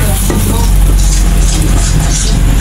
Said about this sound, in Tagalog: Magluto naman ako sa aking ulam na halo-halong gulay guys.